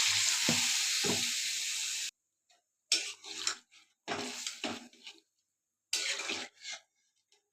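Water hits sautéed potato and cauliflower in a hot pan, a loud, close hiss lasting about two seconds, then breaking into several shorter intermittent bursts of sizzling separated by near silence.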